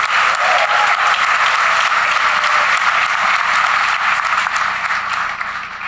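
A studio audience at a panel discussion breaks into steady, dense applause that holds loud and even for several seconds, then begins to taper off slightly at the end.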